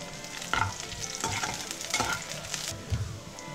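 Onions frying in a pan for a potato sagu to serve with poori, a steady close sizzle with stirring scrapes that swell in several bursts, no voices.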